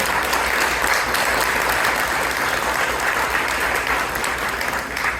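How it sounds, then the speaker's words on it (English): Sustained, dense applause from an audience at a Chicago fundraising dinner greets the Honorable Danny Davis, a steady full roar of clapping that holds for several seconds and eases slightly at the end. "y'all give him a rousing applause"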